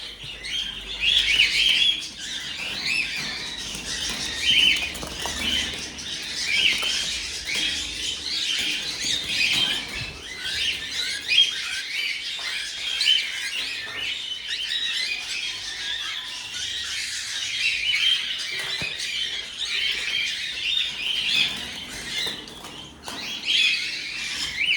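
A crowd of birds with chicks squawks and chirps continuously nearby, dense overlapping shrill calls and squeals with occasional wing flutters, loud and busy throughout.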